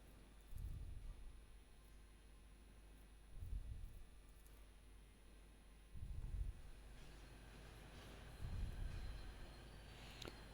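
A train in Warhammer 40,000: Rogue Trader rumbles past in a low, steady drone, with four heavier pulses swelling at regular intervals like passing cars over the rails.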